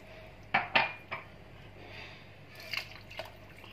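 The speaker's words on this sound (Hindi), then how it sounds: "मैं इसमें छोटे 2 ग्लास पानी डाल रही हूँ।" Water poured from a small glass into a cooking pot of spiced rice for matar methi pulao, heard as a few soft splashes and clinks against the pot, close and quiet, with no talking.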